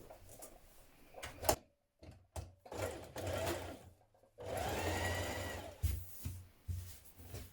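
Sewing machine stitching a seam on denim dungarees before top stitching, running in several bursts of whirring with short pauses between, close and fairly loud, the longest run near the end.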